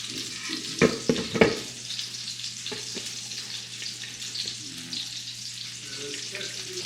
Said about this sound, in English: Egg wash and then breadcrumbs, and I'm cooking in avocado oil.